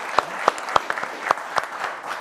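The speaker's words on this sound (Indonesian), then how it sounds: "Tepuk tangannya boleh dong buat Pak Rahim." A small audience claps for Pak Rahim, sparse distinct handclaps at an uneven rhythm, fairly close and moderately loud, without a full roar of applause.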